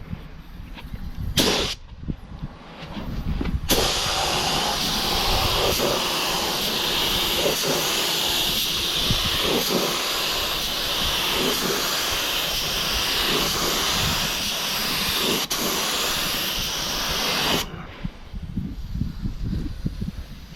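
Spray gun laying a second coat of paint on a Mercedes door during a blend repair, a steady loud hiss running for about fourteen seconds without a break, with short bursts of spray before it and quieter shop noise afterward.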